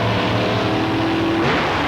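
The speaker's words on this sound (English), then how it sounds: "Building up the RPM in the motor, clearing it down ready for the race." Drag racing car engine at the start line of the 1989 World Finals at Santa Pod, a loud, sustained engine roar with rising pitch near the end, heard alone and close.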